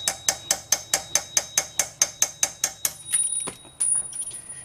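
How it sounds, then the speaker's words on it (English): A hammer taps a rusted, seized screw in a rapid, even series of about fourteen sharp metallic strikes, close and crisp, followed by a few scraping, clinking knocks. "Use a little bit of hammer tapping."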